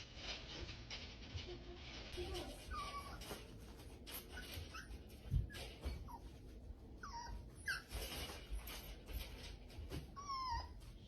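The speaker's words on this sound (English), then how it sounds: "record how my puppy escapes her playpen" A young female puppy in her playpen gives faint whimpers and short yips, with soft rustling and bumps over low room noise. The sounds come in scattered brief bursts rather than steady barking.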